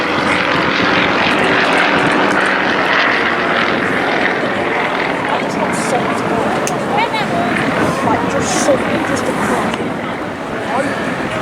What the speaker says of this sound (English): The aircraft was created by the Yakolev Design Bureau, manufactured in Romania.